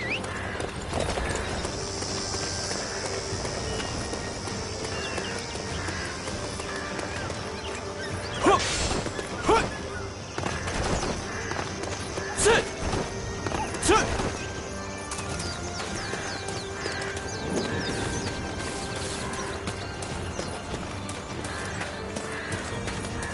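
Hooves clip-clop steadily under a layer of game music and ambience in Dynasty Warriors 9 on PS4, with a horse neighing partway through and a few sharp clicks.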